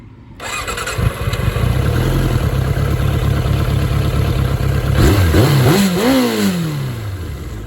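A 1993 Suzuki GSX600F sport motorcycle engine starts and runs steadily at close range, then revs up in several rising and falling bursts near the end, loud throughout with no talking.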